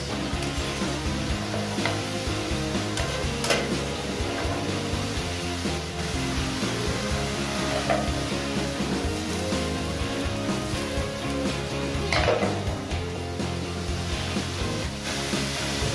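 Thin-sliced beef sizzling and frying in a pan while being stirred, a steady loud crackle with scraping stir strokes throughout, no talking.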